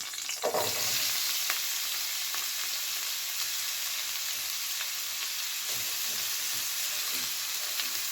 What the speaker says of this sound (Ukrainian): поставила сковорідку, налила дві ложки олії і буду висипати цибульку